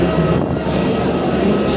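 Steady broadband roar inside a Pegasus airliner cabin as it descends toward Istanbul, Turkey, after a flight from Geneva; the engine and airflow noise is loud, continuous and fills the whole moment without a break.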